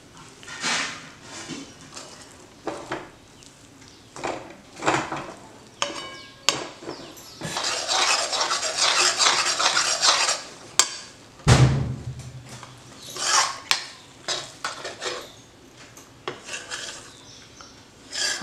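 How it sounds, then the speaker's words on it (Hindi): A spoon scrapes and rasps against a pan as a dry besan and semolina mixture is roasted over medium heat for laddoos, with repeated uneven stirring strokes that continue steadily. "हम लोग ऐड करेंगे बेसन और रवे का मिक्सचर जो हमने लिया है। और मीडियम गैस पे आप इसको भूनोगे।"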